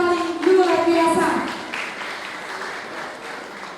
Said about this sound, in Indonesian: Beri tepuk tangan yang paling luar biasa.